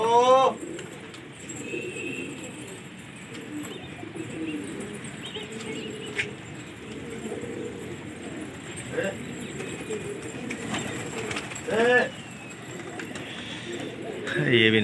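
Gola pigeons in a Lucknow pigeon-flying contest coo and chirp near and far, with occasional wing flutters and voices talking faintly underneath.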